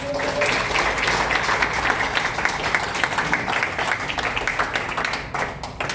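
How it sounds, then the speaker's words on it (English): Audience applause at the opening of the Himalayan Literature Festival, a dense, sustained clapping from a crowd that stays loud for several seconds before thinning slightly, with some voices mixed in. "please have a big round of applause for Yutsu Sharma."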